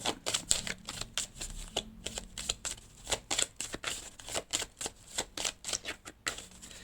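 Tarot cards being drawn and shuffled in a quick, irregular series of crisp riffling flicks and slaps, close and fairly quiet, with no talking.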